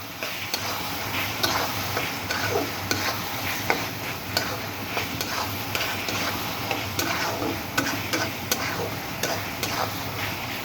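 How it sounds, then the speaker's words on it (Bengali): Spices and tomato frying in a pan for a small bata fish curry, a steady sizzle with occasional stirring scrapes and light ticks of a utensil against the pan, close and continuous with no voices. "মোটামুটি ভালো করে মশলা দিয়ে কষিয়ে, টমেটো দিয়ে একটু কষিয়ে দিচ্ছি"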